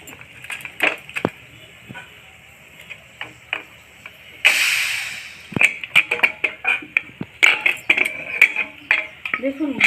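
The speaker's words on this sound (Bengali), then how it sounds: "এখন আমি ডালগুলো খুলে দেখাচ্ছি প্রেশার কুকারটা" A pressure cooker of cooked chana dal is opened, releasing a loud burst of hissing steam midway, surrounded by repeated metallic clinks and clatters of the lid and utensils.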